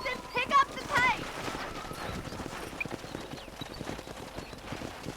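Horse hooves clip-clop at a gallop in the Western video game Red Dead Redemption, a steady rapid rhythm under brief whinny-like calls and game speech early on.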